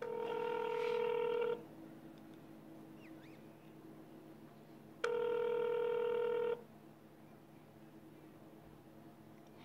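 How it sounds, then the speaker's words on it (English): Telephone keypad tones during an automated phone menu at a boxing and fitness gym: two separate steady tone bursts, each about a second and a half long, with quiet line hiss between them. "If you know your party's extension, you may dial it at any time."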